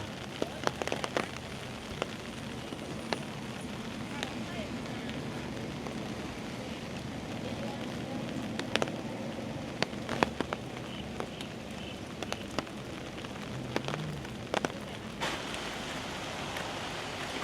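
Heavy rain falls during flooding in a steady dense hiss on surfaces, with scattered sharp drop impacts and taps throughout, fairly close and continuous.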